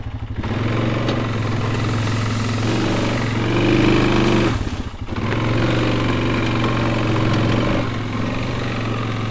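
A tractor engine chugs steadily at close range, a rough rhythmic diesel throb that swells briefly, dips, then keeps running as it drives.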